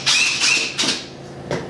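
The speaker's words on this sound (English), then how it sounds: "We got a drill here." A high-pitched motorized whir that starts and stops in short bursts, a few quick pulses of a power drill running close by.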